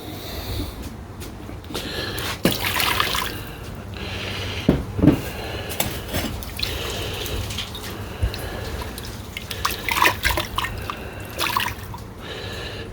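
Water splashes and drips during small rinses in gold recovery work, with irregular close trickles and splashes running throughout and no talk over them.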